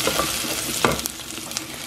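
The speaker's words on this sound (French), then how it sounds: "je fais revenir le tout." Diced onion and two garlic cloves fry in a pan, giving a steady close sizzle with faint stirring scrapes.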